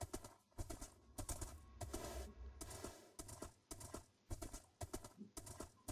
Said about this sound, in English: Hey, I kinda just stole a horse.